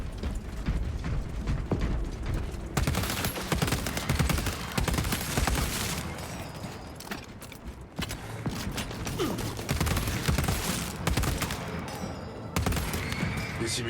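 Dense bursts of rapid gunfire and clanking mechanical weapon noise in the video game Space Marine 2, loud and nearly continuous with short pauses, mixed with battle effects.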